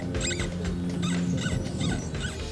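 An electronic predator call plays a rodent squeak outdoors on the South Dakota prairie for fox and coyote hunting, repeating as a series of short high squeals in a steady rhythm over a constant background hiss.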